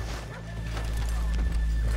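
Horse hooves clop briefly with a snort over a steady low hum, from the video game Red Dead Redemption 2 rather than a live recording.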